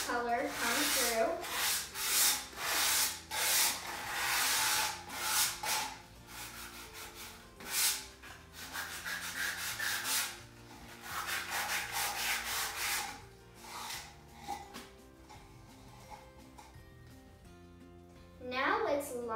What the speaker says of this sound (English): Now let's sand our flag a little bit on the edges to let some of the color come through.